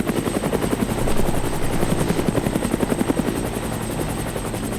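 Helicopter flying in a video game, a loud close rotor chop with a steady rapid beating pulse and a high whine above it, continuous and with no talk.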